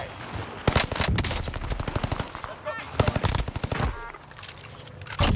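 Rapid automatic gunfire from a Call of Duty Warzone match bursts out in loud, dense volleys, pausing briefly before more rattling strings of shots, with some voices under the action.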